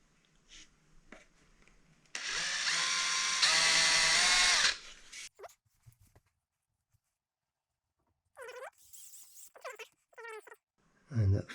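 A power screwdriver drives a screw into an IKEA Lack TV stand in one loud whirring burst of about two and a half seconds. Brief quiet knocks and other short sounds come before and after it.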